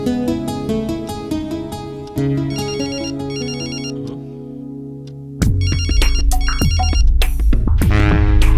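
A mobile phone plays a loud melodic ringtone, repeated electronic chime phrases that pause briefly and resume with a fuller beat, no talking over it.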